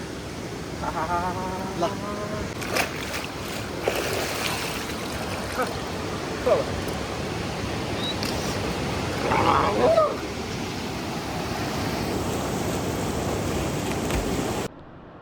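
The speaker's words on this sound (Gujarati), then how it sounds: "હવે છે ને આ નદીમાં નાહવાનું છે આપણે ઘડીક વાર" A continuous rush of flowing river water fills the scene, with people talking faintly over it.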